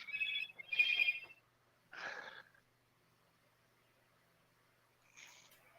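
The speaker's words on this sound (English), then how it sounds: "sorry, my phone's still blowing up." Phone ringing in a lounge setting, with two bursts of the ring tone close together, another burst a moment later, and a fainter ring near the end after a quiet gap.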